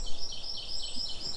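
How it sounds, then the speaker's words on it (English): Birds chirping and tweeting outdoors in the background, a busy high twittering chorus of repeated calls, fairly loud and continuous with no talk over it. "Forgive the birds in the background."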